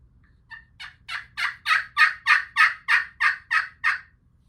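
A turkey call sounds a rising run of about a dozen sharp, evenly spaced yelps to a spring gobbler during a hunt. The notes build in loudness and then taper off against a quiet outdoor background.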